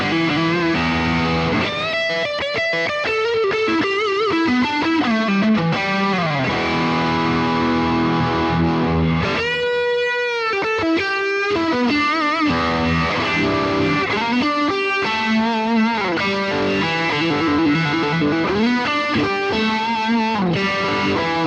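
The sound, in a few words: electric guitar through Boss GX-100 vibe distortion patch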